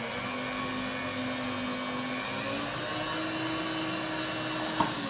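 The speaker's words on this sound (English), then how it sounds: "Give it a quick mix in." An electric mixer whirs steadily while sweet potato is mixed into pudding batter, a constant close motor drone that ends in a small clink near the end, with no voices.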